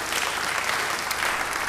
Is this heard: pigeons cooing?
no